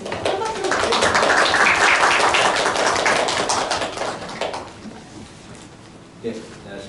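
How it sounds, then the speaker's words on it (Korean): Audience applause for a hospital pediatrics department head introduced to give a parenting health lecture, a dense broadband clatter of many hands that swells loud for about four seconds, then thins and fades with a few scattered late claps. "큰 박수로 부탁드립니다."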